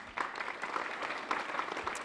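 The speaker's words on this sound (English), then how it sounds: "So let's have a round of applause for them." Audience applause at a county community gathering honoring local contributors, a steady, dense wash of clapping that holds at even loudness for about two seconds with no talk over it.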